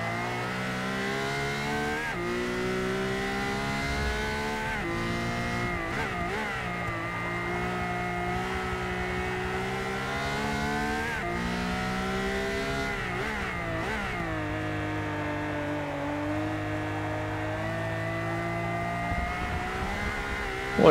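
A race car engine in Forza Motorsport 6 roars loud and close for a long stretch, revs climbing and dropping with repeated gear shifts and no voices.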